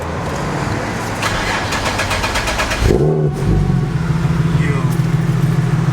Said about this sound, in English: Let's see if the car turns on.